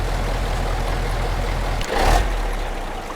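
A truck engine in the MudRunner video game idles with a steady low rumble, joined briefly by a louder whooshing surge near the middle before settling back, close and continuous, with no talk.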